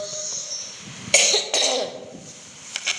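Two sharp coughs ring out close up, a brief third one following after a pause, against a quiet room background.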